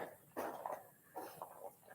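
A dog makes a few soft, short vocal sounds, quiet whimpering yips heard at a distance with pauses between them.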